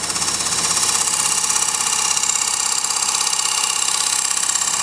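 A hollowing tool cuts the inside of a short stack bowl on a wood lathe, taking about 1/16 inch per pass, giving a loud, steady, continuous scraping and rasping hiss alone for the whole stretch with no pauses.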